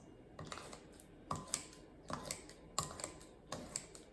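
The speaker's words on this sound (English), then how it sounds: "I didn't want to get mine all dirty today, so we're going the scissor route." Kitchen scissors snip through raw liver for meatballs in a quiet, steady series of short crisp cuts, roughly every half second to second, close but faint.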